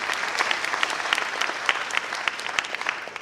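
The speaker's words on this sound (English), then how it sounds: "Let's give a loud of applause to the dancers." An audience at a university career day applauds dancers, a steady sustained round of clapping with sharp individual claps standing out, moderately distant and without talk.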